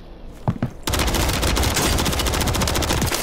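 Call of Duty gunfire: after a couple of scattered shots, a sustained burst of rapid automatic fire breaks out loud and close and keeps rattling to the end.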